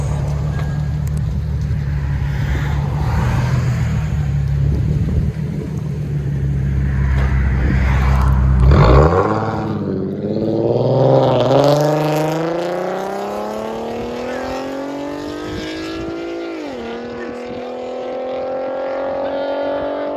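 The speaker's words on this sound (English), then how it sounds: "There's the Infiniti Q60 S Coupe. Straight pipe, true duals with 5-inch blue flame tips." A 2015 Infiniti Q60 S coupe with a 3.7-liter V6 and straight-piped true dual exhaust idles with a deep loud rumble, then revs sharply up and settles through rising, falling raspy engine tones, close by.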